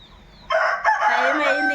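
A rooster crows loudly and close after a brief quiet start, its strained, wavering call rising and holding, with chickens clucking faintly around it in a village yard.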